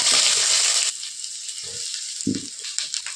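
Three large onions, thinly sliced lengthwise, land in well-heated oil for a restaurant-style chicken roll filling, giving a loud, bright sizzling burst for about a second that then settles into a quieter, steady fry with a few soft stirring knocks.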